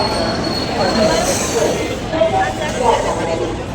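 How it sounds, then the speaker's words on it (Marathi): A passenger train pulls out of a station, heard from on board as a steady rolling rumble with squealing wheels and faint metallic clinks, while people talk over it. "चला आता रेल्वे निघाली आहे बघा स्टेशनवरून"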